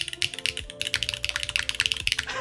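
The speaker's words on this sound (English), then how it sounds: "This is a Keygeek switch." Fast, loud typing on a Keycult No 2 60% keyboard in the stone colorway fitted with Keygeek switches, a dense run of sharp clacky keystrokes with bright attack, close and uninterrupted, with no voices.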